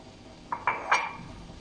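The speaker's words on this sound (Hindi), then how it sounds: "इसमें सिर्फ 1 सिप आपने पानी ऐड करना है। ये देखिए, और इसे अच्छी तरीके से मिक्स कर लेना है।" A spoon clinks against a small bowl while food colour is mixed with a sip of water, three quick bright chimes in close succession, close and alone.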